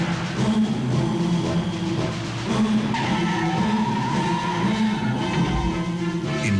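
A Chrysler LeBaron GTS and a BMW 528e race hard, with continuous tire skidding and squeal over loud engine roar that surges and shifts, heard up close and with no speech.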